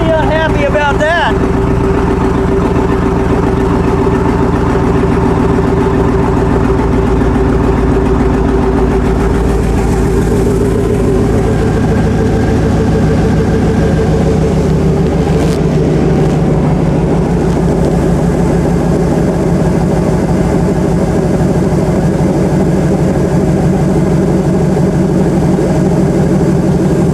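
International truck on a Tahoe chassis, engine running loud and close with a deep, steady rumble that shifts slightly in pitch as it settles into an idle.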